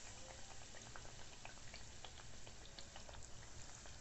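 Kajjaya dough fries in hot oil, a faint, steady bubbling crackle with scattered small pops throughout.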